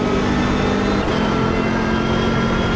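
A BMW race car engine drones steadily in Project Motor Racing with little change in pitch as the revs rise. The note is loud and continuous, with a slight dip partway through, and no voices are heard.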